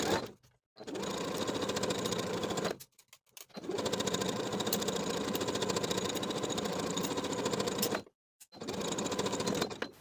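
A sewing machine runs in three sustained bursts, stitching seams on an athletic top with a 3/8 inch seam allowance, its rapid steady whir broken by brief pauses.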